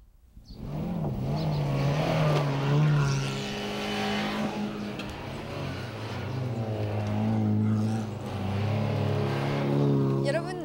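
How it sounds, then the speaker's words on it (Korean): Gymkhana race cars run an obstacle course at a sports stadium in Chuncheon, their engines revving and accelerating loudly and continuously, rising and falling in pitch with each maneuver. "자동차로 장애물을 통과하는 그런 경기인데요"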